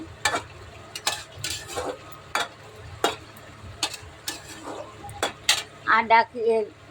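Onion greens cooked with fish in a pan give irregular clinks and scrapes of a utensil against the pan over a low, soft background, and a voice briefly joins near the end.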